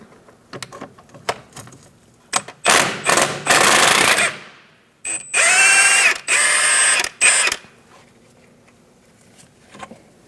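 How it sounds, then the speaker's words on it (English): A ratchet with an 18mm socket clicks in short bursts, then runs in long, loud, rapid whirring spells as a front strut bolt on a 2000-2006 Mini Cooper is spun out, with a brief metallic scrape between them. "Using an 18mm socket, we're going to remove this bolt."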